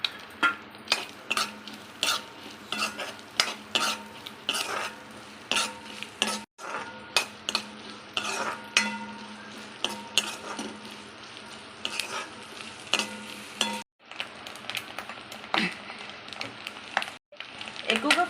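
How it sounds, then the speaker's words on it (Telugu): Thinly sliced onions and green chillies fry in oil in a pan for egg fried rice, a soft sizzle under frequent clinking, scraping stirs of a metal spoon, with brief pauses. "వేసుకొని మనం దీన్ని ఫ్రై చేసుకోవాలండి."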